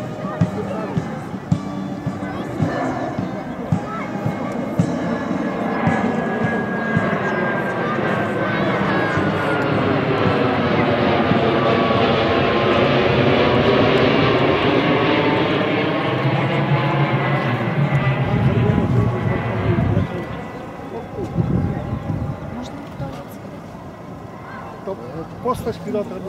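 An Airbus CC-150 Polaris jet flies low past an air show crowd at Świdwin, its engine roar swelling and sweeping through a Doppler shift over many seconds before fading, with spectators talking throughout.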